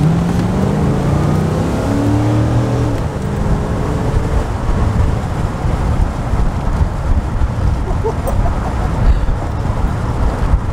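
A 1987 Corvette C4 convertible accelerates on the road, its engine and road noise forming a loud, steady broadband rumble heard from inside the car throughout.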